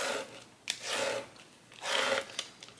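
Cricut vinyl being burnished down with a tool, two close scraping rubs of about half a second each, separated by a short pause, with a faint tap between them.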